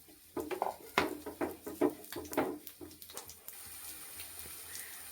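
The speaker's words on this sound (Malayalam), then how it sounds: "ഇനി ഇത് നന്നായിട്ട് നമുക്ക് ഒന്ന് ഇളക്കി യോജിപ്പിച്ച് എടുക്കാം" A spoon stirring and mixing food in a pot in a home kitchen makes a series of light metallic clinks and scrapes. A soft, steady watery hiss follows.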